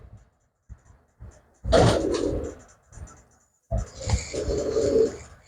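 Pigeons of a good breed coo in two bursts, close by, with short scratchy rustles between calls and no talking.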